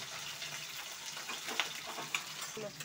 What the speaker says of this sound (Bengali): ঢেঁড়সগুলি আমি গোটা গোটা ভেজে নেব।